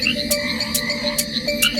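A frog croaks in steady, evenly spaced calls, about four in quick succession, close and clear with no voices.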